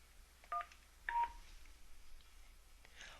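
A telephone keypad tone from pressing 1 on an Avaya IP Office voicemail prompt, heard as two short beeps in quiet, the second slightly longer, with faint background hiss between.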